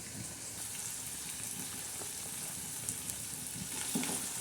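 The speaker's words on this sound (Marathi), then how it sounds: "आता ही भेंडी आपण त्याच्यात टाकणार आहोत" Okra dropped into hot tempering oil sizzles steadily with a dense, even crackle and occasional brighter pops, close and moderately quiet with no talking.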